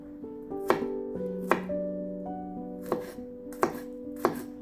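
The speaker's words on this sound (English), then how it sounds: "Chop 2 garlic cloves and half a chili pepper." Garlic cloves and half a chili pepper chopped with a knife on a board, five or six crisp, spaced knocks over a faint ringing hum, close and without speech.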